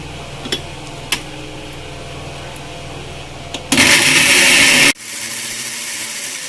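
A kitchen blender purees mango for a dessert in one loud, grinding burst of about a second, preceded by scattered clicks and handling noises and followed by a lower hum.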